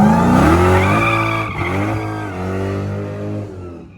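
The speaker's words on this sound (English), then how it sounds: "I've done a couple of burnouts here and just get on the brake and messing with it" A 1000-horsepower Hellcat-swapped Foxbody Mustang does a burnout, its supercharged engine roaring loudly and close with a steady, rising rev and possible tire squeal throughout.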